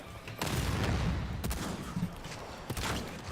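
Rapid overlapping explosions and gunfire in the shooter Second Extinction: a dense rumbling barrage with several sharp blasts standing out, heard fairly quietly in the background.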